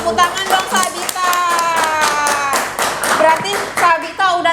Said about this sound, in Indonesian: Tepuk tangan dong Sabita.